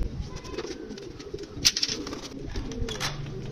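Soft, low pigeon coos murmur steadily in the background, with a brief brighter chirp or click partway through.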